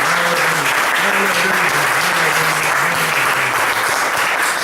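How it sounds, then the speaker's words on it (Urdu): Loud, sustained applause from a church congregation fills the hall continuously, with a voice or tone running beneath the dense clapping throughout. "پاک روح کے لیے زوردار تالیاں بجائیں۔"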